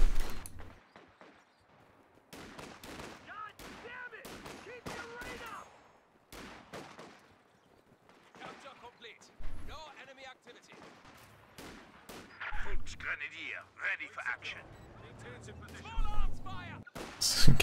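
Rapid bursts of video-game gunfire from a squad of Fox Grenadier models in a tabletop-style battle, sharp cracks and volleys in clusters with gaps, mixed with other battle noise and a commentator talking over parts.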